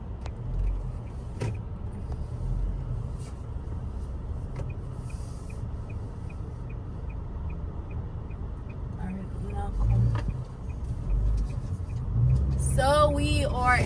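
A car drives along a road at steady speed, its low engine and road rumble continuous throughout, with a brief electronic chirp near the end.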